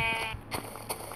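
A sheep in a Minecraft-style video game gives one short wavering bleat, clear and close, followed by faint soft game sounds.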